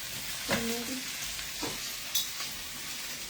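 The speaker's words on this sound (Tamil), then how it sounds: "இது நல்லா எண்ணெயிலே வதங்கட்டும்" Bitter gourd for a tamarind curry sautés in oil, a soft, low hiss broken by a few sharp scrapes and clinks of stirring, faint and close.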